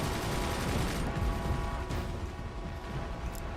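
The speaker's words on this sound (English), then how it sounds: "That is multiple atom cannons coming through" Heavy weapons fire from atom cannons in the strategy video game Forts, a dense, continuous rumble of overlapping blasts and crashes that swells, then thins slightly, with no voice over it.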